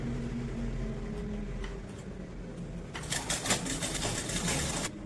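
A sewing machine stitches blouse lining with a continuous close whirring, growing busier and louder toward the end.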